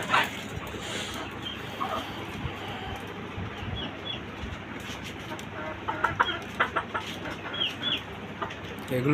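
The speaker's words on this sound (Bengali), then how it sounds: "বাড়ির ছাদে আপনার খাঁচা বিশিষ্ট একটি মুরগির খামার।" Chickens clucking in a rooftop caged chicken farm of white tiger breed roosters, steady dense clucking and rustling close by, with a dog barking at times and faint talk.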